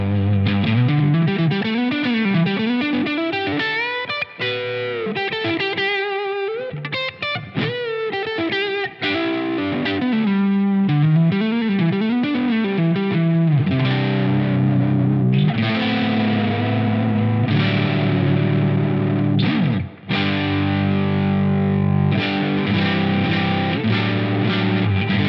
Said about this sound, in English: Let's hear what the neck sounds like with a little bit of gain